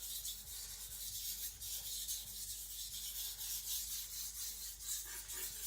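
Sakon Ryuga gyuto knife being sharpened on a Naniwa Professional whetstone, steady close rasping strokes of steel on stone in a continuous rhythm, with no voices.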